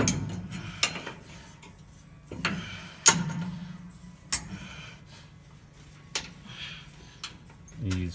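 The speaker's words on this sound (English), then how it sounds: "He's fiddling with the U-joint." Under a 1965 Chevrolet truck during removal of a 350 Turbo transmission, a mechanic works at the U-joint, producing scattered metallic clanks and taps with quiet gaps between them.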